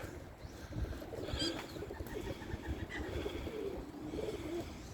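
Pigeons coo softly in a muddy pigeon loft after returning from a 20 km flight, low murmuring calls layered over a steady background rumble with a few faint higher chirps.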